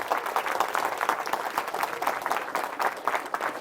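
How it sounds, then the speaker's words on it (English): A round of applause from a student audience at a campus session in Chennai, steady clapping that swells and dips over a few seconds, moderately loud. "Can we have a round of applause for yourself once again?"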